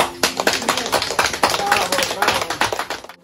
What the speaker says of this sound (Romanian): Aplauze pentru ea!